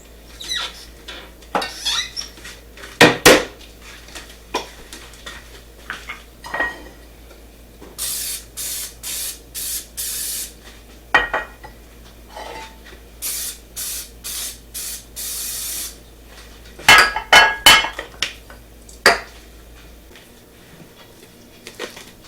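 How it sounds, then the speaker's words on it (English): Cooking spray hisses into glass baking dishes in a quiet home kitchen, several short bursts with pauses between them and faint clinks of handling. "I'm just gonna get the spray."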